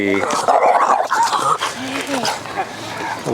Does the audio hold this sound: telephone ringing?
no